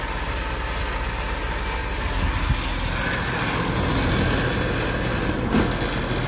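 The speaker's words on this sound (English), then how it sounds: "been hearing this unit vibrate like crazy" An outdoor AC condenser unit runs with a heavy, constant mechanical hum and buzzing vibration, loud and close, with a faint clank partway through.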